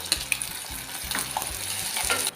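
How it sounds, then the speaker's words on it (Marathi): Green masala paste hitting onion and tomato in a hot pan, a loud close sizzle with scraping stir strokes and light clinks from the spoon, no voices. "ह्यामध्ये घालायचं आपल्याला हिरवं वाटण"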